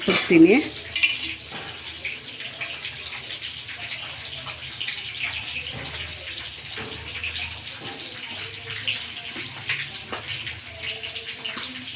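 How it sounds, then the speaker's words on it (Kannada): Fish curry simmering in a pot, a steady soft bubbling with light sizzle throughout, close and moderate, with a brief clatter near the start and no talking. "ಈಗ ಇದು ಕುದೀತಾ ಇದೆ"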